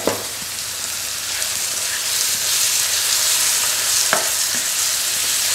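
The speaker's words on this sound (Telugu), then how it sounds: "ఈ టొమాటో ఆనియన్స్ అన్నీ కూడా బాగా ఫ్రై అయిపోవాలి" Tomatoes and onions fry with chili powder over a medium flame, giving a steady close hiss and sizzle with a couple of sharp spatula clicks against the pan.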